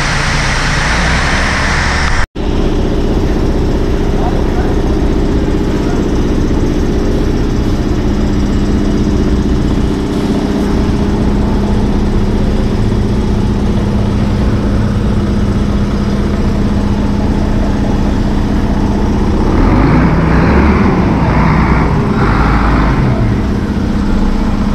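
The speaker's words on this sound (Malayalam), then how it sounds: "എൻ്റെ വണ്ടി കുറച്ചുകൂടി റിവേഴ്സ് വെച്ചു" A truck engine with a gear fault runs steadily as the truck reverses, a loud, continuous low drone after a brief sharp knock near the start, with a faint rising whine late on.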